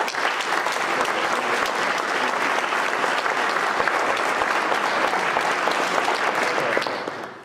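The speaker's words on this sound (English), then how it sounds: "can we give another big round of applause?" Sustained audience applause at a community summit panel discussion, a dense, steady wash of clapping hands that holds loud and even throughout before tapering slightly at the very end.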